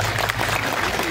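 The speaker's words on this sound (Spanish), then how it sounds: "¡Un aplauso para Jesús!" Crowd applause at an outdoor Palm Sunday gathering of Cotacachi communities in a park, a steady wash of clapping that fills the short moment at moderate distance.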